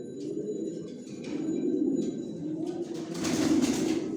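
Racing pigeons coo in a loft, several low rolling calls close by that overlap and swell, with faint rustling and chirps around them.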